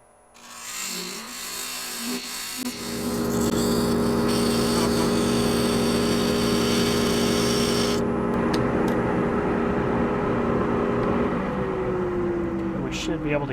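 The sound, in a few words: wood lathe parting off a bocote box at 800 RPM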